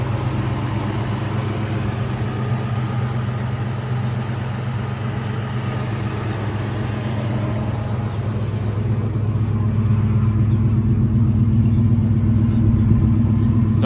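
A 327 small-block V8 with a new Edelbrock carburetor in a 1954 Chevy 3100 truck runs smoothly at a steady idle, a deep even rumble that grows slightly louder and fuller partway through.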